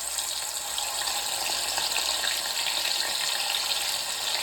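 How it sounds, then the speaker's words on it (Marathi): Steady, loud sizzle of food frying in hot oil, a continuous bright crackling hiss without pause and no talking. "आणि आता पण तळायला घेऊया तेल गरम झालं आहे"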